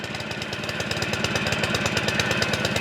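A small Honda engine runs on choke right after its first pull following winter storage, a fast, even chugging idle with knocking pulses that slowly grow louder, close by with no voices.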